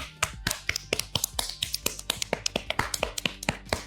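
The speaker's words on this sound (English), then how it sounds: "make slapping, clapping motions directly on the skin as if you were about to slap someone" Hands slap and clap rapidly on bare arm skin, a brisk run of sharp, close smacks in an uneven quick rhythm with no talking.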